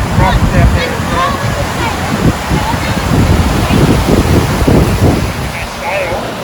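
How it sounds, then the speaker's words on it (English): Ocean waves roll in and break over a shallow, rocky Australian shoreline, a steady loud wash of surf with wind noise across the microphone and scattered voices in the background. "So the water's coming in and it's shallow, that's where the waves are."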